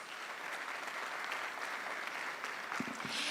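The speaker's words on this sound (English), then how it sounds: "Let's welcome him with a round of applause." An audience at a local FM radio station event claps steadily in welcome of a special guest speaker, with the applause holding at an even level throughout.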